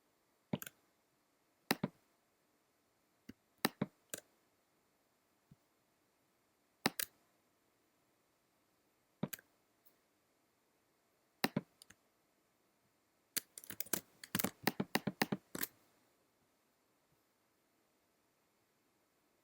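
Mouse button clicks while drawing with the pen tool in design software, sparse single sharp clicks at first, then a dense quick flurry of clicks near the end, close and quiet with no talking.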